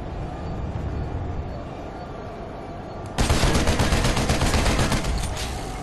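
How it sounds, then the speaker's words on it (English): Gunfire in the Planetside 2 video game: after a few seconds of low background rumble, rapid automatic fire breaks out abruptly and continues as a dense, sustained volley to the end. "They're shooting at us."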